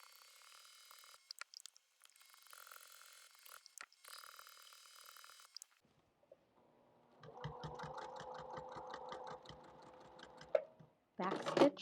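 A sewing machine slowly stitches binding along the edge of a mug rug, a close, pulsing run of stitches following an earlier stretch of separate short mechanical bursts, with a sharp knock at the end.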